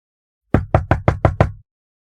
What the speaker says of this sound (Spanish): Inspiró hondo y llamó a la puerta.